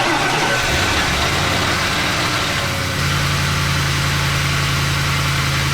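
A car engine, fixed up after sitting neglected for a year, keeps running after the jump pack is disconnected, a steady loud idle with a constant low drone and no talking.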